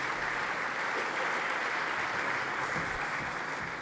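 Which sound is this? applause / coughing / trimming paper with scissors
applause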